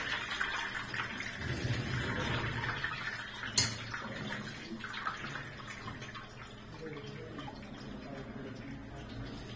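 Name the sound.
pouring cold water over cooked greens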